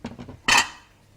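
A serving plate for chicken pakoras is set down, with a few light taps followed by one sharp ceramic clatter that rings out briefly, close, with no speech.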